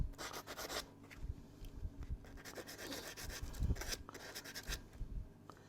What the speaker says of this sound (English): what I'm going to do is get my little sanding block